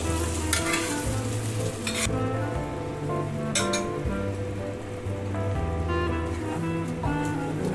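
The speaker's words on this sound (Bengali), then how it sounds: "তড়কার ডালটা ঢেলে দিচ্ছি।" Tadka dal pours into a pan of softened tomatoes for egg tadka, with a steady close bubbling sizzle and soft wet splatters, and a few brief louder crackles along the way.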